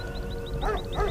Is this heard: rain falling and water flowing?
no